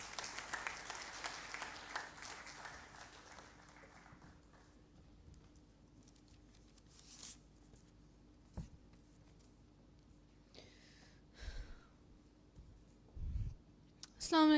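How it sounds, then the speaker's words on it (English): Audience applause rings out and gradually fades to quiet, followed by a few scattered clicks and faint thumps. "let's give her a big round of applause"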